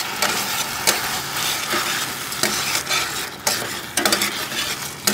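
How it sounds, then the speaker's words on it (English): Mushroom sauce being stirred in a pan on a Napoleon Phantom grill, with steady close scraping and a bubbling sizzle, punctuated by a few sharper utensil knocks against the pan. "Mix it all in."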